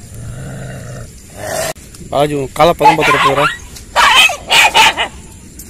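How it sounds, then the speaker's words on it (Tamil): Several dogs drawn by fish being cleaned beside a river growl and bark in quick, loud bursts close by, snarling clusters breaking out between pauses, with someone speaking over the scuffle. "இந்த ஃபிஷ்ஷை க்ளீன் பண்ணுற ஸ்மெல்லுக்கு பார்த்தீங்கன்னா நிறைய நாய்ங்க வந்துடுச்சு, சண்டை வர போடுது பாருங்க"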